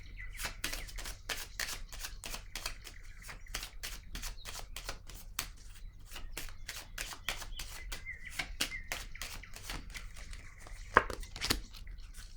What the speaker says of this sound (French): Je vais déposer une carte.